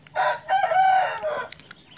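A Bangkok game rooster crows nearby, one long drawn-out call with a rising start and a wavering held middle, fading off at the end.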